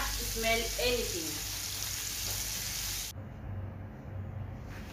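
Tilapia fish frying in hot oil, a steady loud crackling sizzle that runs throughout, with a brief clatter of utensil movement early on.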